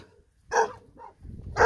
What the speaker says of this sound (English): One guard dog went to the other side of the fence to bark.